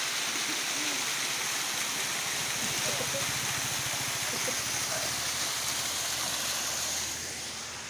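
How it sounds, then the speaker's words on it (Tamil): Roadside waterfalls in Munnar, Kerala pour in a steady, dense rushing wash that sounds close and constant and fades slightly at the end. "சாலை எங்கும் அருவிகள்."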